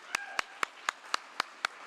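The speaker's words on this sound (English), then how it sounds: "One more round of applause for all of you." Sparse, evenly spaced claps ring out one after another, about eight sharp hits at a steady beat, fairly faint and with no talk, at the close of a civic talk event.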